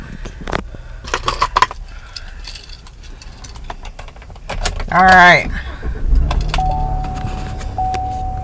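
Keys jingle inside a Chevrolet truck, followed by a warning chime, then the engine cranks and settles into a low idle nearby; someone says a brief word.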